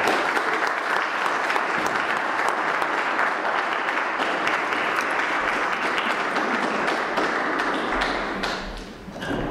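An audience in a lecture hall applauds to welcome a lecturer, with dense, steady clapping throughout that fades slightly near the end.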